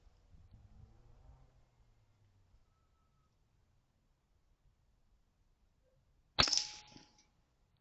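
A single sharp, close air rifle shot fires a pellet at a bullseye target outdoors, a loud crack with a short ringing tail, standing alone after several seconds of near silence.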